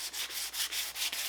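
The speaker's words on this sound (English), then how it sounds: "just a little bit more sanding" Wood edge being hand-sanded for a furniture-style project before finishing, a steady scratchy rasp in repeated back-and-forth strokes, close and fairly loud with no voices.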